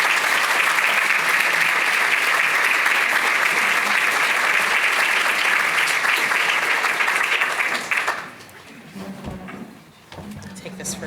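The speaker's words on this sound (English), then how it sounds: "Please give a round of applause for our moderator, Sasha Ann." Audience applause for the moderator at a panel event on advancing health equity in Chicago, a dense, loud crowd clapping that holds steady for about eight seconds, then drops away to quiet room noise and faint murmurs.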